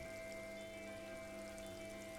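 Rain falls steadily in the video game Disco Elysium, a faint, even patter beneath a soft, constant tonal hum, with no voices.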